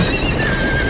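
Horses whinny loudly in the Game of Thrones video game, a sustained neigh over a busy layer of hoofbeats and clatter, close and dense throughout.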